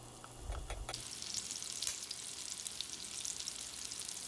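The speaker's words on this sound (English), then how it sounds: "Once your oil is hot, you're going to start adding in your meatballs." Meatballs dropped into hot oil, with a burst of splashing and clatter at first and then a steady loud sizzle and crackle of frying, with nobody talking.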